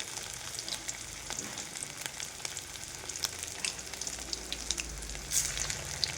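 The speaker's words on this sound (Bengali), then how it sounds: "এবার এইগুলোকে আমি ভেজে নেবো ভালো করে।" Rice and shrimp fritters deep-frying in a pan of oil, a dense continuous sizzle and crackle with occasional sharper pops and light stirring, close and steady with no talk.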